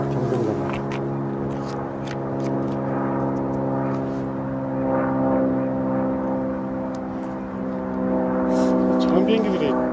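Small private airplanes fly overhead above a farm field with a steady, droning engine hum that swells and fades. People talk over it at intervals.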